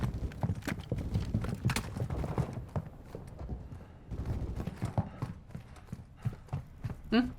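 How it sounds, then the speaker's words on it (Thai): Footsteps in Call of Duty Warzone 2.0 DMZ, a run of rhythmic thudding steps moving across the ground at close range, fading and returning with short breaks. "ได้ยินเสียงเท้าอยู่นะ"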